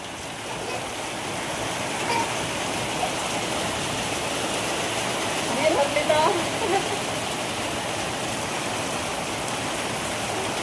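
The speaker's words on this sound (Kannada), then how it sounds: "ಇದು ನೋಡ್ರಿ ಮಳಿ ಎಷ್ಟು ಜಗ್ಗಲಿದೆ ನೋಡ್ರಿ" Heavy rain pouring down in a village, a dense, steady roar of water like a downpour on surfaces, loud and continuous throughout, with a few faint voices briefly audible in the background.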